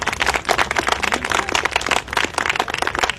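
An audience claps steadily in dense, crackling applause at a public Pakistan–China unity event, honouring the Chinese consulate general. The applause carries on at a constant level throughout with no pauses.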